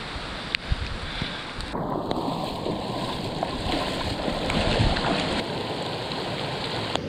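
Heavy rain pours down on hikers walking up a creek in the Kaweka Range, a dense, steady hiss mixed with rushing water and wind buffeting the microphone, with a couple of sharp knocks.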